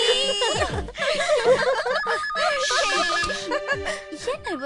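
A telephone ringtone plays loudly and steadily as a repeating melodic ring, with voices and light laughter underneath.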